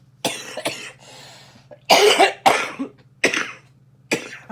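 A string of harsh, close coughs, four or five bursts separated by short pauses, with a softer breathy sound in between.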